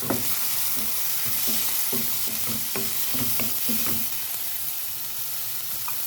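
Bitter gourd with shrimp, egg and chili stir-frying in a pan, a steady loud sizzle with repeated scraping strokes of a spatula stirring throughout.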